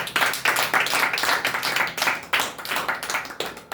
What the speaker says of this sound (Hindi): ये यीशु के लिए ताली मारेंगे।